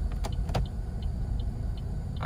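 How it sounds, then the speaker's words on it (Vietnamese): The turn signal of a 2010 Daewoo Lacetti automatic ticks in a steady, even rhythm of about six light clicks, close by inside the cabin, over a low idling hum, with a couple of sharper knocks near the start. "xi nhan báo rẽ hoạt động rất là trơn tru"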